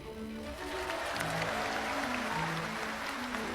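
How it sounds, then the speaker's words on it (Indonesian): Crowd applause at an outdoor political rally for Jokowi, a steady wash of clapping across the whole stretch with a faint tonal line running underneath, moderately loud and continuous. "Tepuk tangannya kurang semangat."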